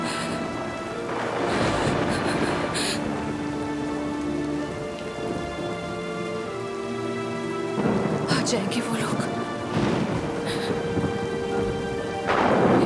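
A heavy thunderstorm pours down, with dense rain hissing steadily on surfaces and deep rolling thunder booming at intervals, loud and enveloping; someone speaks briefly over the storm near the start.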